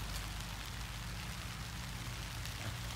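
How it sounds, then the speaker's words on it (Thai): Rain falls steadily outside near a hen sitting on her eggs, a soft continuous wash of patter with a low rumble beneath, even and unbroken, with no voices. "ตอนนี้ฝนตกพอดีเลยเนี่ยเลยไม่ร้อนเท่าไหร่เนาะ"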